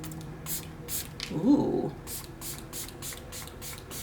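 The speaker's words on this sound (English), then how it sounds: "Just always spray it out first before you spray it on your face." Repeated short hissing sprays from a facial mist bottle in a quick series of bursts, with a brief murmured exclamation in the middle.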